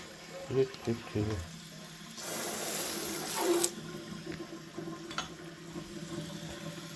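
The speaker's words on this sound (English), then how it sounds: "this all drains down to a catch system, by the way" Water from an indoor winter tank pours down into a catch system, a hissing rush that swells for about a second and a half mid-clip, with clunks and faint voices around it.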